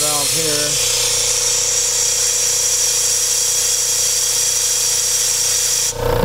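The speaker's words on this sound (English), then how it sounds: "I let the air out of the tank with this valve here." Compressed air rushes out of a tank through a release valve on a hydrogen compression rig, a steady, loud, unbroken hiss that runs for several seconds after a brief voice at the start and then cuts off.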